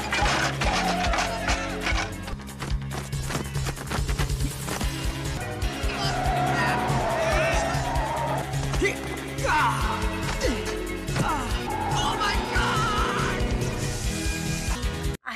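In a Jet Li action film chase, a car carrying bag thieves races off with engine roar and squealing tires, loud and close, layered under a busy, dramatic soundtrack with hits and crashes.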